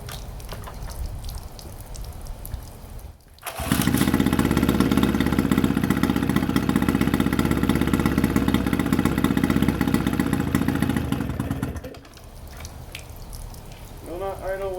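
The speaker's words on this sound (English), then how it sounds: "Will not idle without choke." A Johnson outboard boat engine with a cooling fault runs rich on choke, a steady loud mechanical roar holding for several seconds before cutting back to a quieter idle-like rumble, with water splashing faintly.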